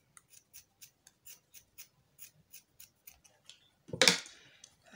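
Scissors trimming fabric on a sewn collar, a run of about a dozen quick, crisp snips at a steady rhythm, up close, followed by a louder rustle of cloth.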